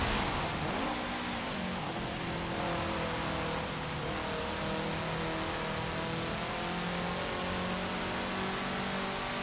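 Racing car engine in Forza Motorsport 7's showroom rally, a steady mid-pitched drone held near its top speed of about 120 mph, with rising and falling harmonic tones and a faint whir throughout, no voices.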